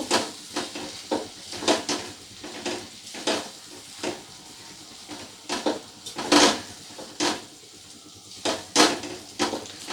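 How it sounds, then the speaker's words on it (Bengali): Potatoes and eggplant are mixed with spices in a pan, giving close, repeated scraping and clattering stir strokes at an irregular rhythm over a faint background sizzle. "আলু আর বেগুনটা দিয়ে মশলার সাথে একবার ভালো করে মিশিয়ে নেব।"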